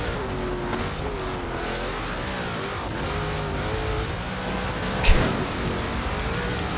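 A Ford Transit van in Forza Horizon 4 drives with a steady engine drone that rises and falls through gear changes, with a short thump or impact near the end and no talking.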